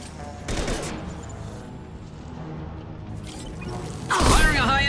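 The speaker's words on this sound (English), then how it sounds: "Firing a high-impact shot!" Gunfire in Mass Effect 2, with bursts of shots near the start and a heavier, louder volley near the end over a steady game soundscape.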